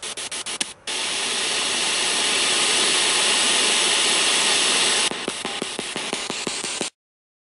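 Loud broadband white noise static from a ghost-hunting device, sweeping steadily after a few sharp clicks, then breaking into rapid stuttering clicks before cutting to silence.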